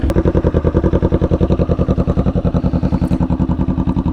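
A motorcycle engine idles close by with a steady, fast, lumpy pulsing throb and no voices over it.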